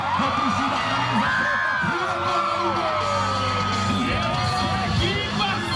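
Rodeo crowd yelling, whooping and cheering in a packed arena at a bull-riding event in Morrinhos, Goiás, a loud continuous roar of voices with shouts rising over it, while a commentator talks excitedly throughout.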